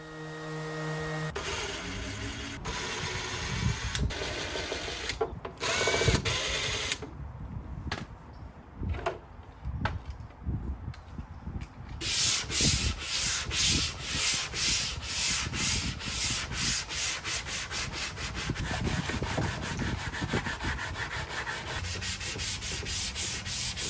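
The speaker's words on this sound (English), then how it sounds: "so I started by sanding it down" Steady scratchy sanding on an antique wooden buffet top, with rhythmic back-and-forth rubbing strokes and brief pauses, close and fairly loud, without voices.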